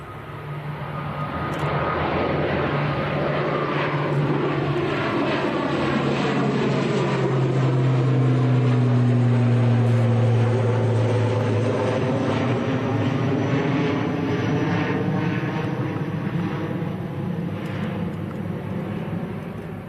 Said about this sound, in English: This is Logan Air in ATR. Getting airborne nice and early